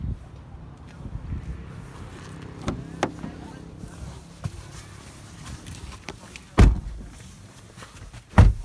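A 2017 Hyundai Creta 1.6 diesel SX SUV being entered: low rustling and soft steps, then two solid door thumps a couple of seconds apart, the second closing the cabin.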